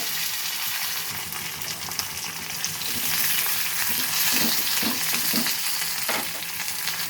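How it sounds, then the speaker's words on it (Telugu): Cumin seeds and green chillies crackle in hot oil for a tempering, a close continuous sizzle that swells midway with popping bursts and stirring scrapes, with no voice. "తాలింపు పెడుతున్నాను ఫ్రెండ్స్. తాలింపు గింజలు జీలకర్ర వేసాను"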